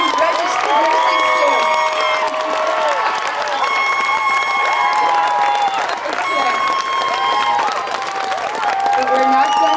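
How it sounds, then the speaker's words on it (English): A large audience at a nursing graduation and pinning ceremony cheers and whoops loudly and continuously, with shouting voices and some clapping throughout, sounding close and filling the room. "Let's give one more round of applause to our biggest class of graduating and registered nursing students."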